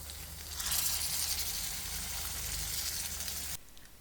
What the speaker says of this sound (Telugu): ఫ్రైంగ్ ప్యాన్లో ఒక గరిట నూనె వేయాలి కరివేపాకు పది వెల్లుల్లిపాయలు కట్ చేసిన ముక్కలు పసుపు వేయాలి